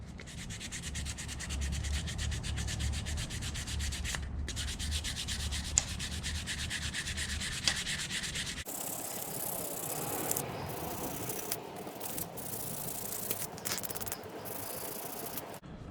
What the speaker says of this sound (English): Just use a new spot on your sandpaper and bring it back to the wood.